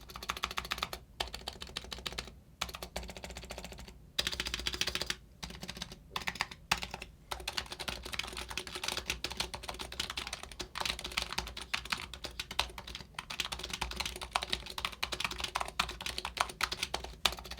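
A TKL mechanical keyboard with Razer Red switches is typed on in a steady, rapid clatter of light keystrokes, with brief pauses and close, soft thocks.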